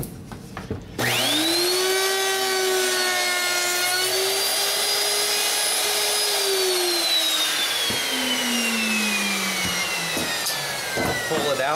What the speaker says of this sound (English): And now, using the router,